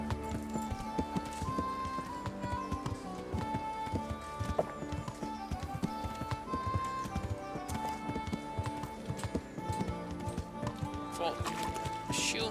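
Horse hooves clip-clopping in the video game Kingdom Come Deliverance, a steady rhythmic patter under continuous game music and ambience, with a whinny suggested and a voice calling to the horse.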